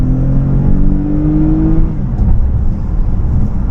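A 2019 Toyota Avalon Touring with a naturally aspirated V6 accelerates: a loud, close engine drone rises steadily in pitch for about two seconds, then drops into a lower rumble as it shifts and keeps pulling.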